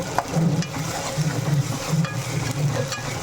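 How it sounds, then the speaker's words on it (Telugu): Chicken and ginger garlic paste fry in a pan with a steady close sizzle, interrupted by brief scraping stirs. "స్మెల్ పోయేదాకా బాగా ఫ్రై చేసుకోవాలి."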